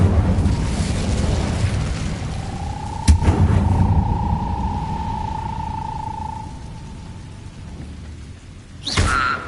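A fiery whoosh and crackling burst from the Incendio fire spell in Hogwarts Legacy, starting with a sharp crack, carrying a sustained roaring tone for several seconds, then a second flare near the end over rumbling game ambience.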